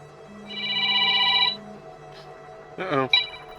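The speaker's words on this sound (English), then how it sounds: "Phone call." A phone rings with an incoming call, giving one steady electronic ringtone burst, followed by a short clatter and a brief voice.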